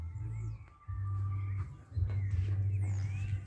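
Birds chirping in open countryside: thin, scattered calls and short whistles sound faintly over a steady low rumble that cuts out briefly twice.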